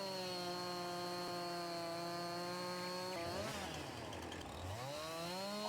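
A chainsaw cuts a log in Farming Simulator 19, a steady harmonic engine whine that bogs down and wavers in pitch as it bites into the wood, then recovers, with no voices.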